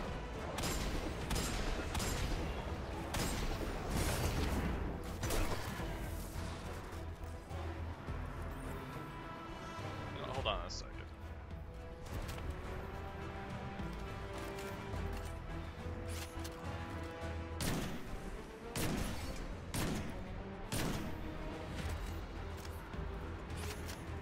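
Gunfire in the Destiny 2 video game comes as repeated sharp bursts and cracks, some close and loud and others more scattered, over a steady bed of game noise with no talk.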